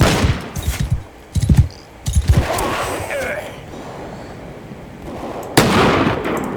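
Bursts of matchlock musket fire from infantry in a Bannerlord 1700 mod battle, scattered volleys of cracking shots with a heavy boom near the end, mixed with shouting voices.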